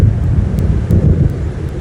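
Low, rolling thunder rumbles from an approaching storm in Alan Wake Remastered, a steady dark roar with wind-like noise and no voices.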